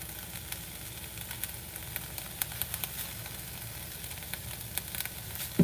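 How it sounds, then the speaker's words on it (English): A stir-fry mix sautes in a pan, giving a soft, steady sizzle with occasional faint crackles and pops throughout. "It should be nice and sauteed at this point."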